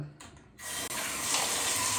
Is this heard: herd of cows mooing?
no